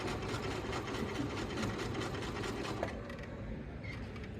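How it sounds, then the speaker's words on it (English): A sewing machine stitching a plush toy hums in a steady, rapid mechanical rhythm, then slows and softens near the end as the presser foot is lifted and the fabric repositioned. "lift the presser foot, and then reposition to sew"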